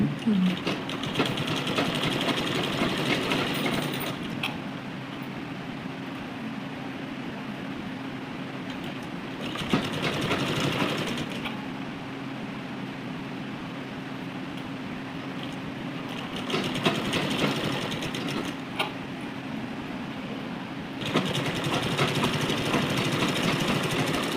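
A domestic sewing machine runs in steady bursts while stitching cloth in a tailoring lesson, its fast mechanical whir starting and stopping several times with short pauses between runs.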